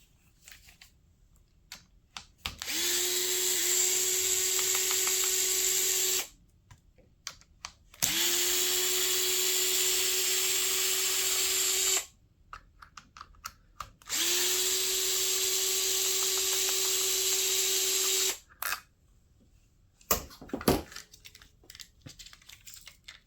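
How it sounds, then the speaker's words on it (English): Close-up power driver backing screws out of the receiver box on a RLAARLO AK 787 RC car, three steady whirring runs of several seconds each separated by short pauses, then scattered clicks and rattles of parts being handled, no speech. "I'm going to remove the screws from the radio, from the receiver box."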